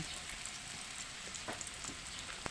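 Tomatoes frying in a pan for ginisang kamatis give a steady, quiet sizzle, with a few soft scraping stirs near the middle and at the end; no one speaks.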